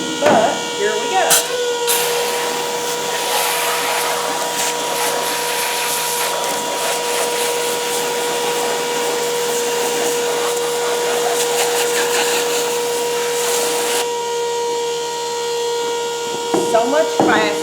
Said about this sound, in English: It's just a 12-volt transfer pump that you hook up to a battery